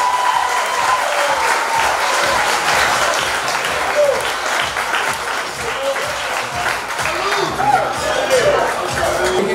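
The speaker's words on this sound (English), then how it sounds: "give it a round of applause" Wedding guests give sustained, loud applause filling the room for the whole stretch, with crowd chatter and a speaking voice mixed in.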